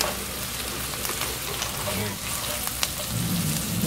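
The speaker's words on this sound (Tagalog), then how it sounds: "hulog na natin tong tokwa." Tofu dropped into hot oil for sizzling spicy tofu, frying with a steady dense sizzle and crackle that stays loud and continuous throughout, with brief pops and faint stirring.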